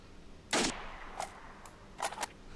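Gunfire in the video game S.T.A.L.K.E.R., a few sharp, fairly faint shots, one louder crack followed by scattered quicker bursts over low game ambience.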